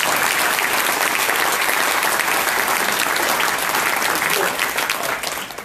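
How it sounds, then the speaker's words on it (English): Loud, sustained applause from a crowd at a community awards dinner fills the whole stretch, tapering off slightly at the end. "give them a round of applause"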